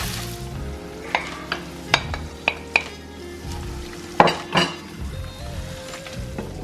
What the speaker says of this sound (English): it's going to sizzle in a minute